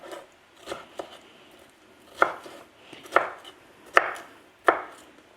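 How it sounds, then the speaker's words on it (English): A knife slices through food onto a cutting board in a series of sharp, close taps, with about six distinct cuts spaced roughly a second apart and quiet in between. "just gently tap them together, and then you can group them up and just kind of slice them"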